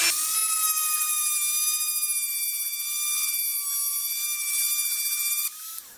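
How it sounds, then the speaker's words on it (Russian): A rotary tool spins with a felt polishing wheel against the control panel of a Samsung MS23F301 microwave, a steady high-pitched whine with constant tone that winds down at the end. "А теперь попробуем сначала без ничего полировать, просто войлоком."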